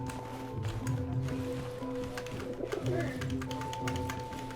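A pigeon coos in the video game 11-11 Memories Retold, giving soft, repeated low coos set against a steady background hum, with faint footsteps and rustling mixed in.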